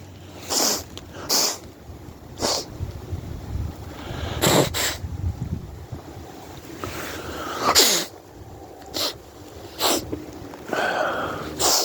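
Repeated sharp sniffles and snorts through the nose, irregularly spaced, close to the microphone with a breezy outdoor background.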